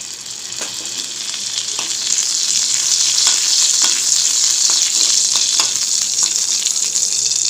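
Cumin seeds frying in two spoons of ghee, a loud steady crackling sizzle that builds and holds, dotted with small pops and the occasional scrape of stirring.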